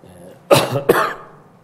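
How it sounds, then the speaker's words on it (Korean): Two sharp coughs in quick succession, close and fairly loud, with a quiet room hush before and after. "제가 지금 몸 상태가 별로 안 좋아서 기침을 좀 할 거예요."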